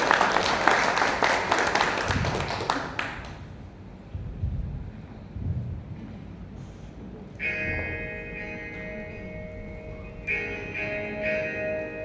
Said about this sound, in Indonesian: Kita sambut dengan tepuk tangan.